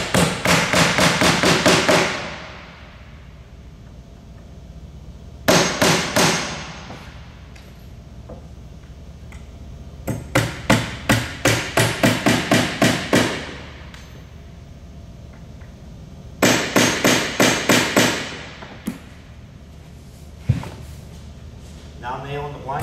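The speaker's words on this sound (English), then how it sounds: "Drive in the face nails first, and it makes it easier to drive the blind nails after you come back." A hammer driving face nails into a wooden floor, delivered in several quick bursts of sharp, ringing blows with pauses between them, loud and close in a quiet room.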